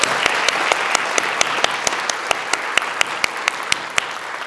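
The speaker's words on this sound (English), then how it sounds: "A round of applause, please, for our spellers." Applause for young spellers at a school district spelling bee, a steady wash of many hands clapping with sharp individual claps standing out near the listener, lasting several seconds.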